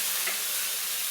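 Chopped greens, likely fenugreek leaves, sizzle briefly in a hot pan, a soft steady frying hiss.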